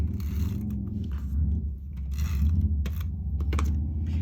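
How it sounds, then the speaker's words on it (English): Adhesive tape pulled off the roll while preparing a card-making title page, with rasping, crackling tearing bursts over a steady low background hum, fairly close and without talk. "let me get my tape going"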